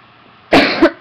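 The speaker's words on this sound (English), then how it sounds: "So I keep coughing." A person in poor lung health gives a loud, close cough burst followed by a second shorter cough, alone after near silence.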